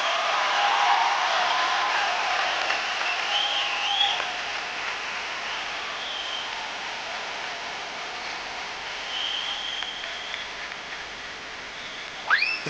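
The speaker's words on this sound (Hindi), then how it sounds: "जोरदार तालियां हो जाए एक बार।" Continuous hiss-like clapping from a comedy show's studio audience, held at an even, moderate level for the whole stretch with a few brief whistles rising above it.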